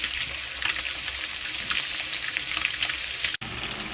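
Onions fry in a pan for a ridge gourd and prawn curry, a steady, close, crackling sizzle throughout, briefly interrupted by a short dropout near the end, with no speech.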